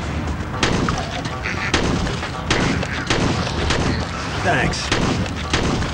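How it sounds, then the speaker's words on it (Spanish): Gunfire from shooting zombies in the mobile game Dead Trigger 2, with repeated sharp shots every second or so, loud and close, alongside continuous game noise and occasional talking. "Vamos a disparar más zombies."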